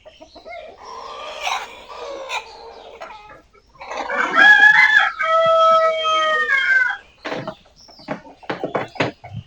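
Backyard chickens cluck and crow in bursts, with a few birds vocalizing loudly close by, then short scattered clucks as the flock comes out to drink after feeding.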